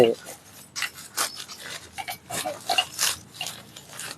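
Nuts on the rear handle of a BUATHONG wheeled earth auger are loosened with a tool, giving close, irregular scraping and rasping strokes in short bursts.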